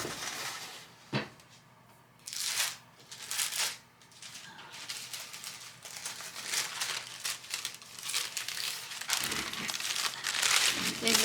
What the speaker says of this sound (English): of faux rice paper that I made from tissue paper